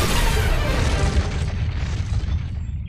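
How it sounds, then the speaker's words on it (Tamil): A big cartoon explosion from a microwave oven, a booming blast with a thick, rumbling low end that rolls on for a few seconds and slowly fades, loud and close. "இது வெடிச்சிருமேடா."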